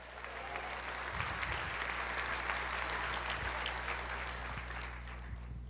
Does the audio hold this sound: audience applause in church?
yes